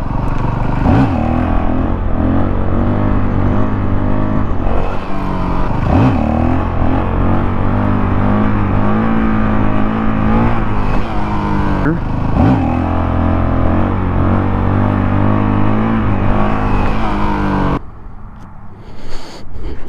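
A 2019 Honda CRF450L dirt bike engine during wheelie practice, a loud close, steady motor drone with periodic throttle surges, and a person speaking over it before it drops away near the end.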